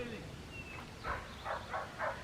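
A dog barks outdoors somewhere off at a distance, four short faint barks in quick succession after a moment of quiet background.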